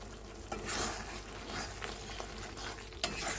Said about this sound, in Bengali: সব দিয়ে মশলাটাকে ভালো করে কষাবো।